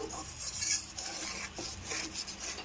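Half a spoon of sugar being stirred into a pan of vegetarian potol curry, heard as close, quiet scraping and rubbing strokes of a spoon against the pan in short uneven bursts.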